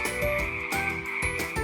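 Frogs croak in a steady pulsing chorus, loud and close, with regular throaty bursts layered over a tonal musical backing.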